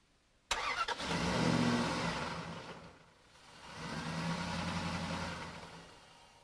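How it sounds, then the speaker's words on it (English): A car engine cranks and fires up on a lithium polymer jump starter pack, then revs up, eases down and climbs again before settling, heard close and fairly loud with no talk. "completely disconnected from the battery, it still jumps the vehicle"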